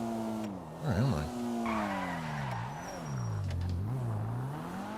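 A video game car drives with a wavering engine drone and a brief squealing tire skid early on, then keeps rumbling and shifting pitch throughout at a fairly close, steady level.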